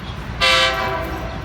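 Thai special express train number 7, running Bangkok to Chiang Mai, sounding its horn at a station: one loud, ringing, resonant blast of about half a second over low background rumble.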